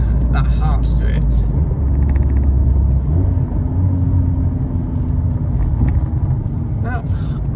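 A Mazda MX-5 MK4 (ND) is heard from inside while driving, with a loud, steady engine rumble that shifts pitch as it pulls through gears, mixed with talk.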